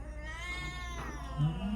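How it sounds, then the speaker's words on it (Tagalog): A cat with a claw snagged and stuck gives a drawn-out, pleading meow that rises into a louder, strained wail near the end, close to the microphone with no talking. "Ay, kawawang pusa."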